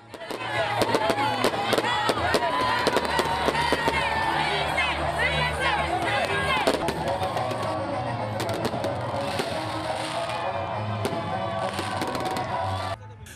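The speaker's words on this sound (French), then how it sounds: "La commune doit abriter la cérémonie officielle des feux d'artifice." New Year's Eve midnight fireworks at an official town display, with bangs and crackles over a loud, continuous celebrating crowd that includes shouting children, carrying on throughout.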